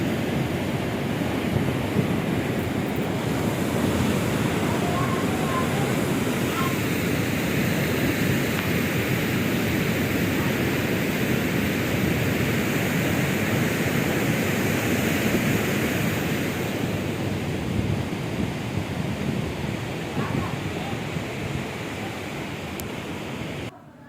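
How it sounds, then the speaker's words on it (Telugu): Water roars through a single opened dam gate, a loud, steady broadband rushing and churning that continues unbroken for the whole stretch, with slight wind buffeting on the microphone. "ఒకటే గేట్ ఓపెన్ చేశారు, ఒక గేట్ మాత్రం వాటర్ వచ్చేస్తుంది."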